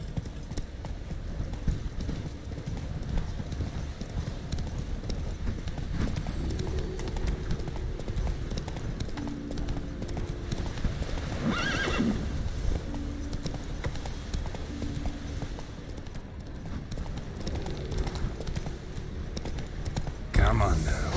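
Hooves of Roach, a horse in The Witcher 3 video game, beat in a steady clip-clop across a continuous outdoor game ambience, moderately near, with no clear neigh standing out.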